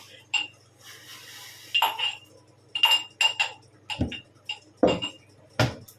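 Crushed ginger is stirred and pounded in a metal utensil, producing a series of sharp metallic clinks and knocks in an uneven rhythm, with a few heavier thuds. Someone speaks briefly between the hits.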